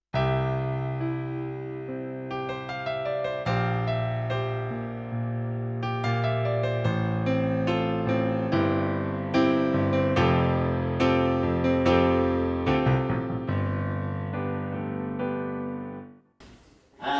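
A Yamaha CVP709 digital piano on its pop grand piano voice plays a full, continuous passage of chords and melody alone for about sixteen seconds, bright and close, with sustained notes ringing into a sudden cutoff near the end.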